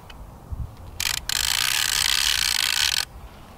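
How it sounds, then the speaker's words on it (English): The cocking crank of a Ravin R10 crossbow ratchets in a fast, even clicking run lasting about two seconds after a short first burst, heard alone and close. "This goes all the way down, locks in, and then you crank it up."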